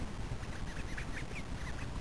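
A bird gives a short run of faint, rapid quacking calls over steady background hiss.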